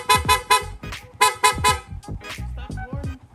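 PIAA car horn on a Sniper 150 motorcycle, sounded in quick repeated toots, a bright two-tone blare pulsing several times up close before trailing into shorter beeps.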